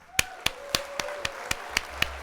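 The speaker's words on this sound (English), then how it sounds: "I'm going to hit the applause." Applause sound effect fired off during a livestreamed model-kit building session, a short run of evenly spaced, crisp claps ringing out clearly on their own.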